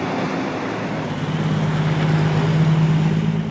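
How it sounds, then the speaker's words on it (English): Rumbling logging trucks pass along a forest road, a steady loud low drone of heavy engines and tires that builds slightly over a few seconds, with no voices. "The sound of rumbling logging trucks can also play a role saving salmon."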